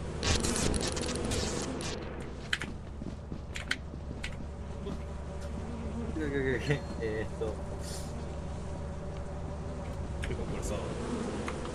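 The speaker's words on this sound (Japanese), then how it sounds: "蜂を全力で引き寄せるから、ちょっとあの蜂の巣をあの船内に持って帰ってほしい" Bees swarm and buzz around a beehive in the video game Lethal Company, a steady droning hum running throughout while people talk over it.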